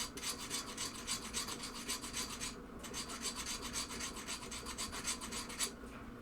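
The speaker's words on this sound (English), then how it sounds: "as you can see, my file is jumping around on them" A hand file rasping across the sharp edges of a 1974 Williams Lucky Ace pinball machine part, steady rhythmic back-and-forth strokes with a brief pause, close and quiet with no voices.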